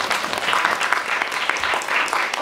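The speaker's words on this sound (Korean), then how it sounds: "박수 부탁드릴게요." Cinema audience applauds during a film talk event at a library in Myeongdong, dense overlapping claps at a steady level throughout.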